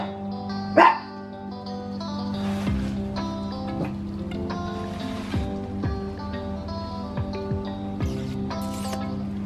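A dog barks in several short, sharp bursts spread across the scene, over a steady low hum and faint outdoor background while camping.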